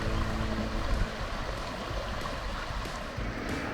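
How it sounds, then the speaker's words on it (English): A small waterfall on a creek spills over shale, a constant close rushing splash of water with slight surges, no voices. "Beautiful little waterfall."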